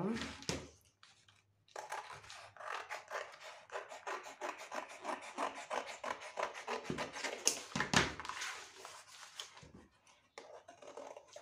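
Scissors cutting fabric for women's shorts, a close series of quiet rasping snips and rubbing strokes at an uneven pace, with brief pauses.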